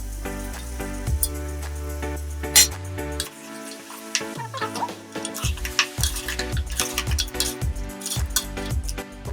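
Goat head meat sizzles in hot oil with garlic paste and turmeric while a metal spoon stirs it, scraping and clinking against the pan in irregular, close bursts over a soft frying hiss.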